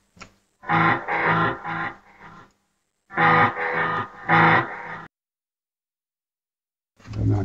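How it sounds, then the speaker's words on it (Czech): A recorded instrument played through a line-input amp cabinet emulation with a classic echo effect: two groups of rhythmic repeated phrases separated by silence, then a new phrase starting at the end. "Samozřejmě můžeme tam dát klasický echo."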